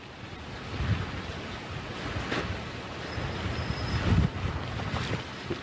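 Strong storm band wind and surf on the 79th Street Causeway in Miami, a continuous rushing roar of gusts and crashing water with buffeting microphone wind noise, swelling around the middle and again near the end.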